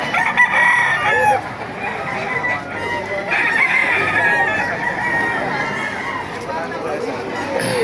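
Many chickens cluck and roosters crow together at a busy poultry market in Baliuag, Philippines, with people talking and chattering underneath.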